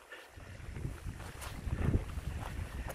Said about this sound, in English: Because we've got wind.